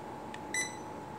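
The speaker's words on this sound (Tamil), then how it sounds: "ஃபஸ்ட்டு ஒரு பீப் சவுண்டு வரும்," A non-contact infrared thermometer switching on gives a short electronic beep, with a fainter blip just before it, over a quiet background hiss.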